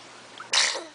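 A child sneezes once, a single sharp burst partway through, close and moderately loud over quiet indoor room tone.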